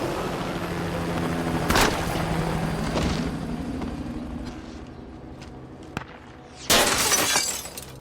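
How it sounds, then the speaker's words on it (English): Movie gunshot sound effects from the film Extraction crack among a tense rumbling soundtrack, ending in a loud shattering burst of breaking glass and debris. "they give us the sound of the gunshot"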